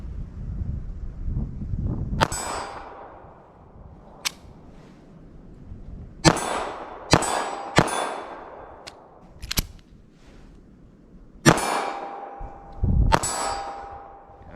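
.380 ACP pistol shots ring out outdoors at a measured pace, each sharp crack followed by a metallic clang as the rounds strike steel targets, with irregular gaps between shots.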